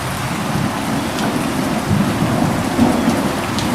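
Steady heavy rain pours down during a thunderstorm, with low rumbling thunder rolling underneath and no voices.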